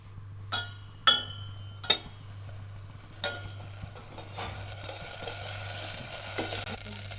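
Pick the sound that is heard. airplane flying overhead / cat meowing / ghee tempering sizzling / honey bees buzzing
ghee tempering sizzling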